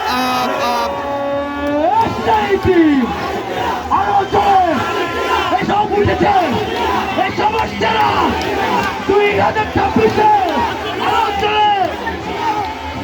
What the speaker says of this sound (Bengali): আমরা একটু মেসির নামে স্লোগান ধরি